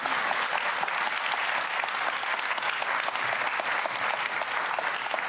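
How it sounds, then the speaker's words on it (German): A studio audience on a German TV cooking competition gives sustained, even applause that fills the whole stretch without a pause. "Großen Applaus"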